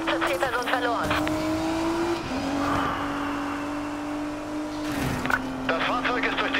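A car in Need for Speed Payback smashes through police barricades, with a sustained engine drone and tire noise running under voices speaking over police radio, plus a louder impact burst near the end.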